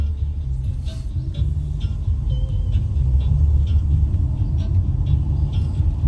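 A car driving along a road, a steady low engine and road rumble from inside the vehicle with faint ticking and rattles above it.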